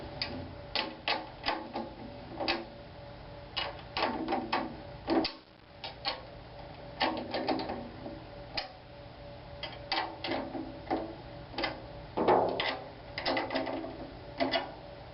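Drum head tension screws turned with a drum key while tuning the top and bottom heads of a five-lug drum, a steady run of small close ticks and clicks in uneven rhythm.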